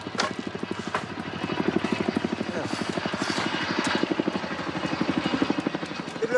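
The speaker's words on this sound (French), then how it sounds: "le bruit d'un hélicoptère résonne dans le silence de la montagne" A helicopter flies over remote mountains in Papua, its rotor chopping in a steady, fast pulse that swells and fades slightly at a moderate distance, heard alone without talk.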